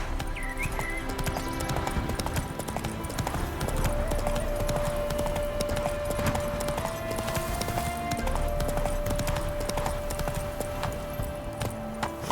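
Roach the horse from The Witcher 3 galloping, a steady clip-clop of hooves running under a continuous game soundscape with a sustained tone, occasional whinny-like sounds and faint voices.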